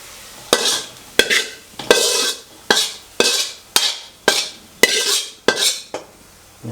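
A spoon stirs pork cracklings frying in oil in a metal pan, making about ten sharp scraping, clattering strokes at a steady rhythm, each followed by a sizzling wash, close and fairly loud with no talk.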